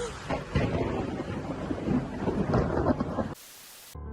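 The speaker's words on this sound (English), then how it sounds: "Lightning and thunder are captured at the exact moment by this young woman." Thunder rolls through a storm, a loud, sustained rumble with rain and wind noise, then cuts off abruptly near the end.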